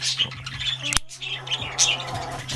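Parrots squawking in an aviary during courtship and nesting, loud harsh calls with chirps overlapping close by, one sharp burst standing out.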